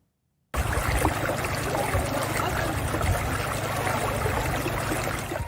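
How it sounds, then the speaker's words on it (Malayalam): The Ain Arzat stream in Salalah, Oman, flowing in the khareef season, rushes steadily after a brief silence at the start: a dense, continuous, fairly close burble of water running over rocks. "വർഷം മുഴുവൻ വെള്ളമൊഴുകുന്ന അരുവിയുണ്ട് സലാലയൻ ഐൻ അർസാദ്"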